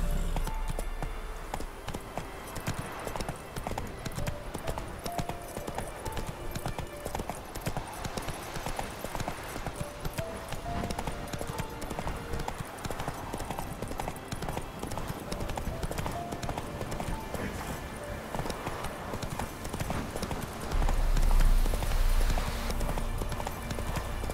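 Horse hooves clip-clop in a steady galloping rhythm in the video game The Witcher 3: Wild Hunt, close and continuous throughout, with a brief louder rumble near the end.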